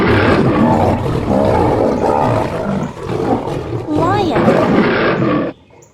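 A lion gives a loud, sustained roar close up, with deep rumbling growls running for several seconds before cutting off abruptly; a voice may be mixed in.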